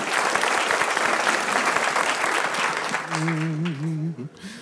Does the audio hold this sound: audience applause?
yes